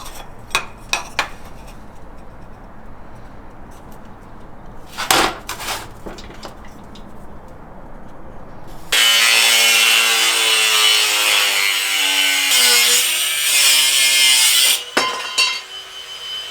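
A 1/8 inch steel plate for an ARB air compressor mounting bracket is cut, with a few sharp metallic knocks and handling clanks, then a loud, harsh, sustained cutting screech that lasts about six seconds before stopping.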